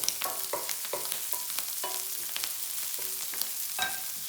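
Chili sizzles and fries in a hot pan with a steady crackling hiss, broken by a run of sharp metallic clinks and scrapes as it is stirred.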